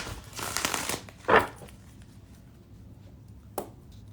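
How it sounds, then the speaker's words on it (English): A deck of tarot cards is shuffled in a brief papery riffle burst, followed by a sharper tap and a second quick flick after a pause, close and fairly quiet. "I'm shuffling up my deck right now so I can get into it."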